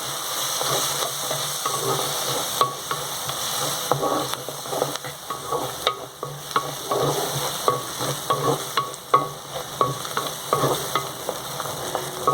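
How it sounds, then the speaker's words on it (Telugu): Onions with turmeric sizzle and fry in a pan while being stirred, a constant frying hiss broken by repeated scraping stir strokes at a fairly even rhythm, close and moderately loud with no talking. "పసుపు వేసేస్తున్నానండి పసుపు వేసి కొంచెం కలుపుకోవాలి"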